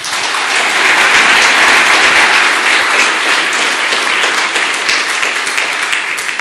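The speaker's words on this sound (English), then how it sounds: "Give a warm welcome applause to Sebastian." A conference audience claps to welcome a speaker on stage at the 23C3 hacker congress, a dense, loud and sustained wash of applause from many hands that holds steady throughout, with no talking.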